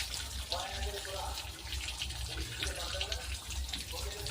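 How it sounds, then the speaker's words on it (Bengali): Palm fruit seeds are rinsed one by one under running water, a steady tap-like stream with soft splashing and handling noises throughout. "এখন এগুলা ধোয়া লাগে ভালো ভালো করে, এক একটা করে।"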